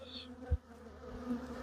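Honey bees hum steadily in an opened hive during an inspection, a low continuous drone with a brief soft thump partway through, fairly quiet and close.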